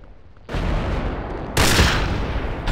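Sniper rifle fire in Project Reality v1.033 on the Dovre map at dusk: two loud, sharp reports roughly a second apart, each followed by a sustained rumbling echo, with no talking.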